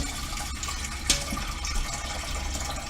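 Tap water runs steadily into a cooking pot being filled for rotini pasta, a soft continuous splashing rush heard close and alone, with one brief louder clink.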